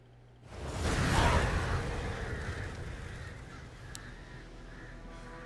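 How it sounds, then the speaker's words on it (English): A crow caws in The Witcher 3 video game, heard over a broad whooshing wind-like ambience that swells early and then slowly fades. "Bird."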